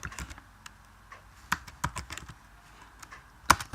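A computer keyboard typing C++ code, with sparse, uneven keystrokes close by and a couple of louder key taps standing out against a quiet background.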